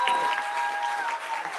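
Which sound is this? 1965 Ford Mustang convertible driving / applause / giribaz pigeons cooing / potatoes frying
applause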